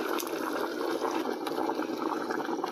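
Water broth pours into a curry, a steady close splashing gush of liquid filling the pot with no talk over it.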